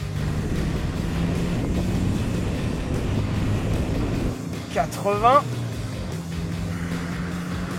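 A car overfilled with engine oil drives while someone counts speeds aloud, its steady engine drone and road and wind noise running under the voice, with a brief dip and a few higher tonal sweeps near the middle.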